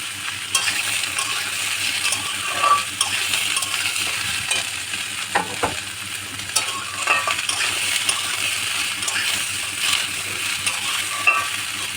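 Tomato frying in a pan, a continuous sizzle with occasional stirring scrapes and small utensil clinks, close and steady, with no voices.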